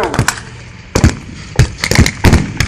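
Sharp gunfire cracks at a World War II tank reenactment with a Panzer III replica built on an FV432, a rapid irregular string of close, loud reports with brief gaps between them.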